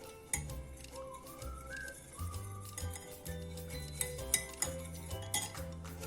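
Pasta salad being tossed with lime juice in a kitchen bowl, with close clinks and scrapes of utensils against the dish coming in irregular bursts over a low background hum.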